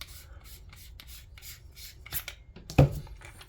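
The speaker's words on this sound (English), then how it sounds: "The head is glued on, so we'll go ahead and unscrew this." Head of an Armytek Partner C2 18650 flashlight being unscrewed: a short series of close, faint scraping and rubbing twists, ending in a single sharper click.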